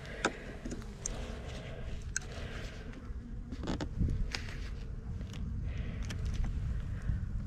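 Honey bees buzz during a hive inspection on a chilly day, making a continuous low hum close by with scattered clicks and knocks from handling the frames and no talk.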